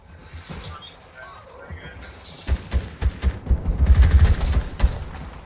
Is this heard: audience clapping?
no